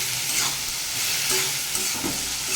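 A Bengali vegetarian dish of snake gourd cooked with ground sesame paste is stirred in a pan, with a steady hiss of frying and soft scraping of the spoon throughout, no talk.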